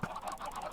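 Chickens clucking in a farming video game, a short burst of soft, repeated clucks, close and moderately quiet.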